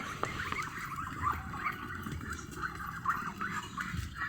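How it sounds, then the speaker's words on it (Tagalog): Native roosters being delivered crow and squawk in several overlapping calls, moderately close, over a low background rumble. "15 pieces, puro barako po lahat yan."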